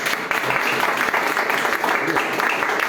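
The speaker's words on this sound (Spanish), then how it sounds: "Vamos a dar un aplauso al Señor." A church congregation claps together, a dense, steady wash of applause that carries on evenly throughout with no clear break.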